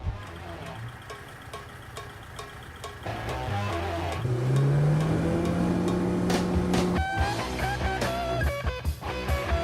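A Lada car's engine revs and climbs in pitch while it is driven around a watered, wet parking lot, loud and close, with someone talking over it.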